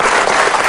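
Studio audience applause on an Indonesian television talk show, a dense, loud, steady burst of clapping heard alone throughout.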